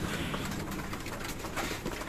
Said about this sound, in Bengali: দেখুন সব কবুতরগুলো, আসলে কবুতরের খাবারের যে দৃশ্যটা দেখলে অনেক ভালো লাগে